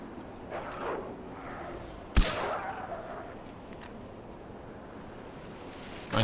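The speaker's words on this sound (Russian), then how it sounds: "Кто стреляет?" Gunfire in the video game Far Cry 4 on the Valley of the Yetis map: one loud, sharp shot with a short echoing tail over quiet ambient wind, and fainter muffled noise before it.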